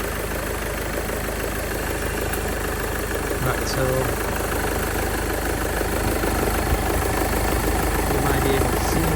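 A 2016–2017 Mercedes B200d diesel idling steadily after a micro V-belt and idler pulley change, a constant engine hum with someone talking briefly over it.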